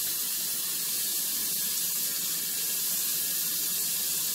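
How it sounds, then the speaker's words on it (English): Tap water runs steadily into a sink while a pot lid is rinsed after cooking cassava leaves, a constant close hissing splash with no talking. "I'm rinsing out the cover so that I won't leave nothing behind"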